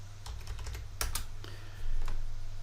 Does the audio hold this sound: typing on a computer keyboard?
yes